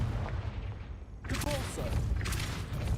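A Confringo blasting spell in Hogwarts Legacy erupts as a sudden fiery burst with a crackling follow-up blast, loud and close over low background rumble.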